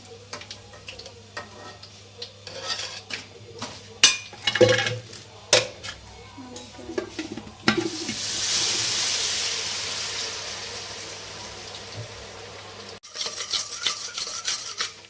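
Ghee and flour being stirred together in a pan for a sauce, producing steady scraping and rubbing with a soft sizzle building midway, close-up, with a faint voice at times.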